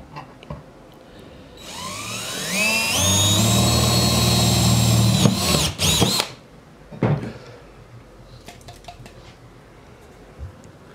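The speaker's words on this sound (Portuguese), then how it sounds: "Então recomendo-se usar uma furadeira de bancada" A bench drill whines up to a loud, rising motorized pitch for several seconds as it bores a hole through material, then stops, followed by a few clanks and clicks.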